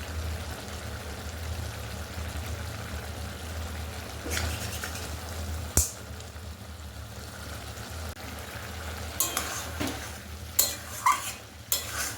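Banana flower curry cooking in a pan as ghee and garam masala go in, with a steady low sizzle, occasional stirring scrapes and a few sharp utensil clinks toward the end, no talking.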